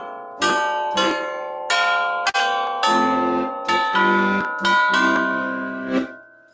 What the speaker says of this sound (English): orchestra chimes. So much fun, so loud, so much copper tubing.